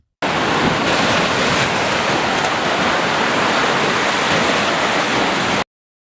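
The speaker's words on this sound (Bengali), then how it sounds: "দমকা হাওয়া ও সাগর বিক্ষুব্ধ থাকায়" A steady, loud roar of crashing surf and rushing gusty wind on the rough Bay of Bengal off the Cox's Bazar coast fills the whole stretch without pause, broadband and unbroken like a storm at sea.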